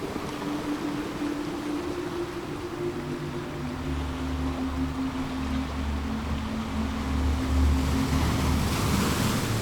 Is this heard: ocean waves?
yes